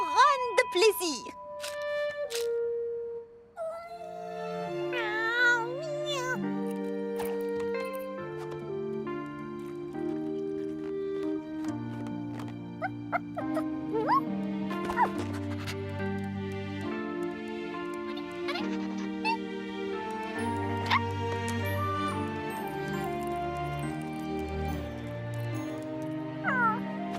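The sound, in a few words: cartoon cat meowing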